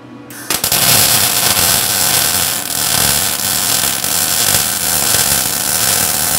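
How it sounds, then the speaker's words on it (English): A grinder smooths down a fresh weld on a 1959 MotoMower Shark 5 motor mower, starting abruptly into a loud, steady, harsh rasping roar held close throughout with no talk. "Grind that down smooth."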